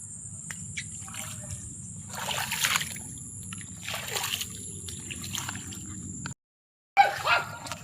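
Feet wading through shallow floodwater, with repeated swishing splashes at a slow walking pace over a steady chorus of insects, ending with a short gap and a louder splash.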